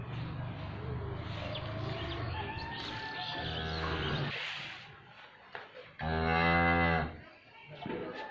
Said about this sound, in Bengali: সবগুলাই বিদেশি গরু, বড় বড় উলান গরুর।